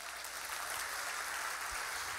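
A crowd claps steadily at a church service, a continuous wash of applause at moderate distance, fairly soft and even throughout.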